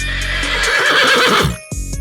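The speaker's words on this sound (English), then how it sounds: "horse" A horse gives one loud, close whinny with a quavering, descending neigh lasting over a second, followed by a brief snort at the end, heard alone with no talking.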